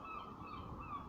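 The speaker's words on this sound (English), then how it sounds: "The seagull" A seagull, one of the birds nesting on a nearby roof, gives faint honking calls as it lands, a few short cries at low level over a soft background rumble.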